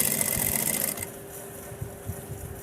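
Sewing machine stitching buckram onto the hem of palazzo pants, running in a fast, close whirr for about a second before stopping, followed by faint handling sounds and no talk.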